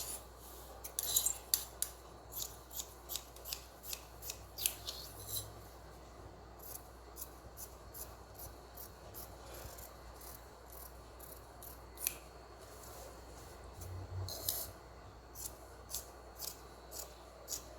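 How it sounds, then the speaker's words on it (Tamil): Scissors snip through blouse lining fabric in short, repeated crisp cuts, close and fairly quiet, coming in irregular bursts with pauses between, over a faint background hum. "இப்போ இந்த லைனிங்கில் தான் வெட்டிக்கலாம்."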